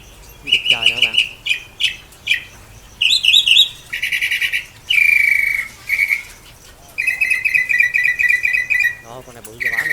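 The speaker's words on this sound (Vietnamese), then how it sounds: "Vịt trời nữa bạn." Birds call and whistle at an outdoor wild bird market in Thạnh Hóa, Long An, with repeated high chirps and tonal whistles in short bursts, some of which may be wild ducks, close and fairly loud over a busy background.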